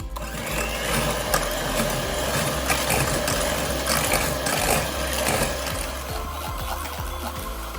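Electric hand beater whipping sugar into eggs for a marble cake batter, a continuous buzzing motor drone with uneven rattling and scraping against the bowl, steady and close throughout.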